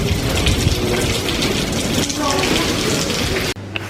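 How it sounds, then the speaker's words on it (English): Rain patters steadily on a town street beside construction fencing, a dense close hiss with scattered drop ticks, cutting off abruptly near the end. "Granted it's raining"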